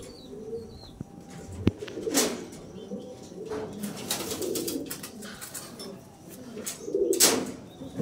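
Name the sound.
pigeon cooing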